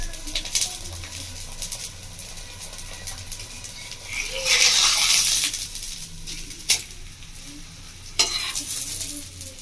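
Mixed vegetable paratha frying in a pan, a low steady sizzle with a louder burst of hissing midway and a few sharp clinks of a utensil against the pan.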